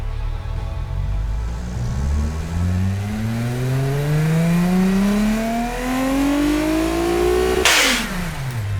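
A simulated car engine in the Automation tycoon game revs steadily upward through its range during automated testing, one long rising whine with layered harmonics, loud and continuous, ending in a sudden burst of noise at the top.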